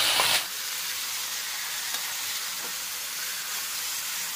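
Tender bottle gourd tipped into a hot pan of oil and spices, a brief bright splash followed by a sustained, close, steady sizzling hiss that continues evenly for several seconds without talk.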